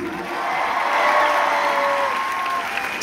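A large audience claps loudly and steadily at a live concert at Moni Lazariston in Thessaloniki, Greece. The dense applause holds for about three seconds, with faint cheering mixed in.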